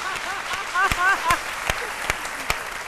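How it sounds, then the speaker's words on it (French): Studio audience applause on a French television variety show, sparse clapping with sharp individual claps and some cheering voices mixed in, moderately loud in a reverberant set. "je voudrais qu'on les applaudisse encore plus fort"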